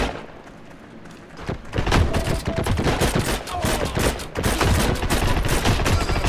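Gunfire from a firefight in the first-person shooter Heroes & Generals, with a quiet start and then dense, continuous bursts of shots and thuds that carry on at a fairly steady level, with no talk over them.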